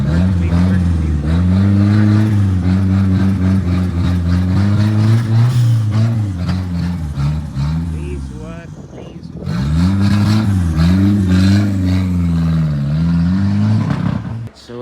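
A Nissan CA18DET car engine with a fuel problem revs up and holds high, eases back down, then rises again in a second strong rev. The sound is loud and close, with voices partly audible underneath.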